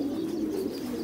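A pigeon kept as a pet bird gives a low, steady cooing that runs continuously for about a second, close and clear.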